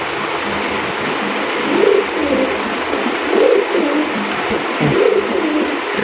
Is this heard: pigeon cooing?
yes